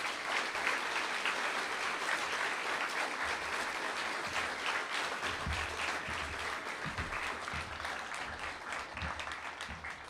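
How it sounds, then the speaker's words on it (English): An audience at a schools cattle competition gives a sustained round of applause, dense clapping held steady for about ten seconds and easing slightly at the end, with no voices over it. "So can I ask you to just give him a round of applause?"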